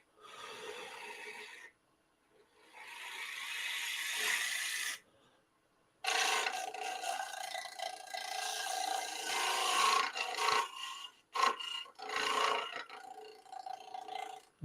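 A gouge works a wooden bowl spinning on a lathe, giving rough scraping and rasping bursts that start and stop, with brief silent pauses between passes and a long busy stretch of cutting.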